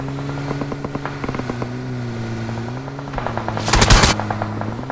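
Gunfire in an online shooting game: rapid automatic bursts crackle near and loud, and a sharp, heavier blast peaks near the end over a steady engine-like hum.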